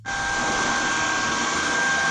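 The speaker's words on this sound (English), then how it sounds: "very easy to control. Which is something I really like about this vacuum" A Shark cordless IZ251UKT vacuum cleaner with anti hair wrap runs at a steady, loud motor whine with a constant high tone, uninterrupted and close.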